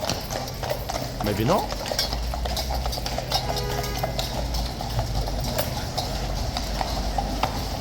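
Troopers' horses at Horse Guards depart with a dense clatter of hooves on pavement, continuous clip-clopping amid street noise and crowd chatter, with a voice speaking briefly.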